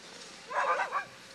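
A single dog gives a brief, faint yelping bark at a distance, heard over a steady outdoor background in an Alaskan interior village with working sled dog teams.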